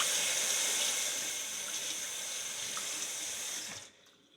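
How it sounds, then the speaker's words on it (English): Steady rush of running water from a tap rinsing off one side of a metal horseshoe, loud and continuous before cutting off abruptly near the end. "Go ahead and rinse off that one side."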